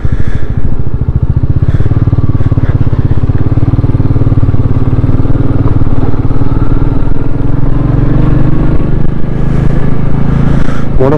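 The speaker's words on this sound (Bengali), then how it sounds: "তাই রাস্তার মাঝ দিয়ে চালাচ্ছি বাইকটা" A motorcycle rides slowly along a snowy, avalanche-strewn mountain road in North Sikkim near Lachen, its engine droning loud, close and continuous with a steady throbbing rumble and faint rattles, without speech.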